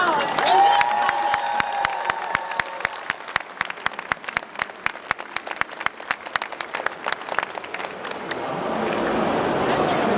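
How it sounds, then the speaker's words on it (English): Loud crowd applause and cheering at a Blizzard World of Warcraft cosplay contest on stage at Gamescom 2025, dense clapping with whoops that holds steady for about eight seconds before giving way to a wash of crowd noise. "So please give everyone a huge applause."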